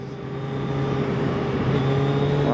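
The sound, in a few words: sport motorcycle accelerating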